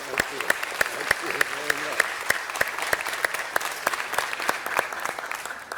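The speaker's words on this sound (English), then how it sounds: "Let's give a round of applause, folks." A city council meeting audience claps for a man's 80th birthday, a moderate crowd with sharp, distinct claps over a few seconds.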